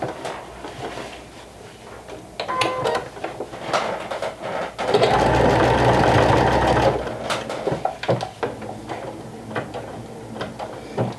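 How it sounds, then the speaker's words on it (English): A home sewing machine runs a half-inch seam on a vintage jumper, its motor whirring steadily in one sustained run amid clicks and handling of fabric before and after, with no voices. "I'm stitching this 1/2 inch seam allowance like so"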